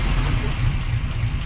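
A 1953 Oldsmobile Rocket Super 88 barn find runs with a steady, low, rumbling engine drone, close and continuous, without any clear revs.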